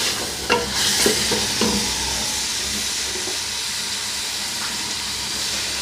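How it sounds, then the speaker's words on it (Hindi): Afghani pulao ingredients with cloves being stirred in a hot cooker pot, a steady sizzling hiss with a few scraping spoon strokes near the start, close and continuous without talk. "अब एक दफ़ा मिक्स करेंगे"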